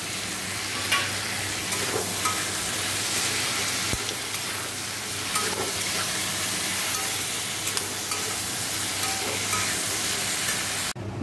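Prawns frying in a pan and being stirred, a steady dense sizzle with scraping stir strokes running throughout, close and loud with no voices.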